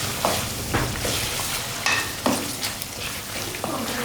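Black pepper, cumin and coriander dry-roasting in a pan for a beef karahi, a loud continuous sizzle and crackle broken by several scraping stirs of a utensil, no voices.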